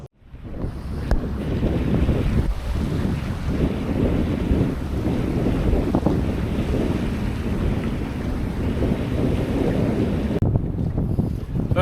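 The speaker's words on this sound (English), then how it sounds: "The sail's just the genoa. Just the genoa, the wind is from behind." A sailboat runs under genoa alone with the wind from behind in Arctic Lofoten waters, giving a steady, full rush of wind and water along the hull with heavy wind buffeting on the microphone and no talk.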